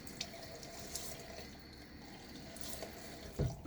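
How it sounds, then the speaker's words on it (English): Tap water runs into a sink and is splashed onto the face before a wet shave with a Gillette Aristocrat Jr safety razor, a steady quiet trickle with a louder splash near the end. "Putting some water on my face. Soften up the whiskers."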